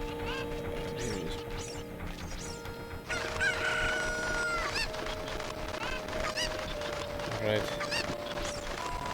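Cucco chicken squawking and crowing from the Zelda Ocarina of Time video game, several honking cries over game music and mechanical effects, with a brief spoken word.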